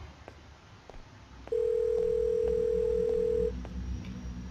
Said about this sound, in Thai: เสียงโทรศัพท์